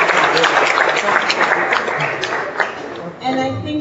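Audience at a closing panel discussion applauds, a dense wash of clapping across the room that thins near the end, with voices mixing in beneath it.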